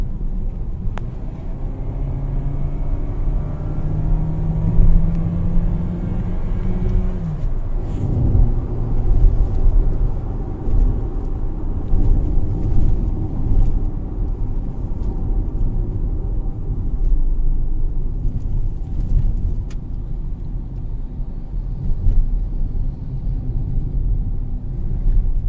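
A Mitsubishi Xpander Exceed with automatic transmission drives on a test run, a steady low cabin rumble of engine and road noise with a rising engine tone early on, continuous and unbroken.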